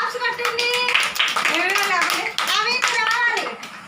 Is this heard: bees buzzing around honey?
no